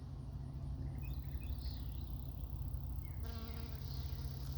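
A bee buzzes close by while gathering pollen in a garden, a thin steady hum that rises and shifts as it moves, heard alone without talk.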